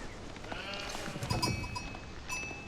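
Sheep bleat a few times in an Age of Empires IV match, with soft wavering calls around the middle and end over quiet game ambience and light clicks.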